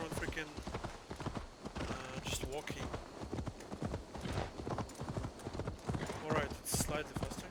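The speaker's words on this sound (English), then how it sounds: "Horse is not very fast" A horse galloping in the video game Assassin's Creed Valhalla: rapid, rhythmic clip-clop hoofbeats, close and continuous throughout, with a brief whinny and voices talking over the gallop.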